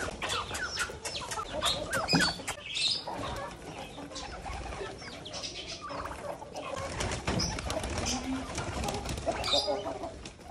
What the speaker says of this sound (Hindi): वहां पर सारे परिंदे अपना दाना खा रहे हैं